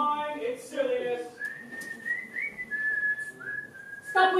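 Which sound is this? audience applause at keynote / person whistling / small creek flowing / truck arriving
person whistling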